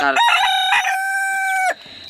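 A domestic rooster crows once in the evening, a loud, close, drawn-out call that rises and holds before breaking off, alone with no talk.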